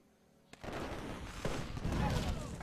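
Cannon fire in the strategy game Civilization 5: a sharp shot followed by a burst of booming artillery and rumbling blasts, with voices talking over it.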